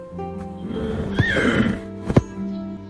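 A large, thick-legged knight's horse in an AI-generated anime neighs loudly, a rising whinny followed by a couple of sharp snorts or thumps near the end, heard close and alone without speech.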